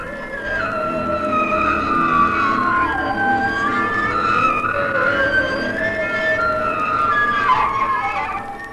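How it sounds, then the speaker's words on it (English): Honing of hydraulic cylinders at the Remco Hydraulics plant in Willits, Mendocino County, giving a loud, continuous, wavering high-pitched machine whine with gliding tones throughout, and no talking. "Here you can hear the honing sound of hydraulic cylinders being turned to a fine degree of accuracy."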